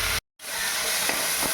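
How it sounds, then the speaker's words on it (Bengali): Brinjal slices fry in hot oil with a soft, steady sizzle and hiss, cut by a brief moment of silence near the start before the frying resumes. "দেখুন বেগুনগুলো ভাজা হচ্ছে"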